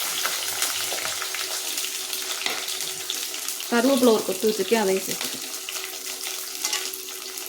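Onions and green chillies sizzle and hiss steadily in a hot pan while someone talks over it, with a burst of louder crackling midway.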